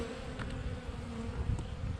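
Honeybees buzzing inside a beehive suffering from dysentery, a continuous close humming drone with a few brief louder passes over it, no talking.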